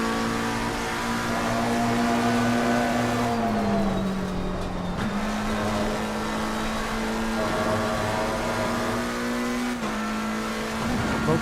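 A McLaren race car in Assetto Corsa Competizione at Silverstone, its engine holding a steady loud drone that dips as the driver brakes and turns too hard, then climbs again with faint tyre noise underneath.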